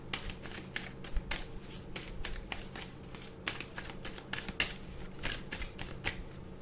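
Tarot cards handled and shuffled by hand, a rapid run of crisp flicking and riffling snaps close by, continuous and fairly quiet with no talking.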